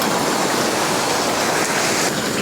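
Water heats in a lidded pot on a Snow Peak GigaPower 2.0 backpacking stove, with bubbles forming on the bottom short of a rolling boil; a loud, steady, close hissing roar runs unbroken throughout with no talking.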